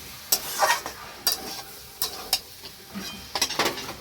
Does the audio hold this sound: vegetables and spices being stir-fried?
yes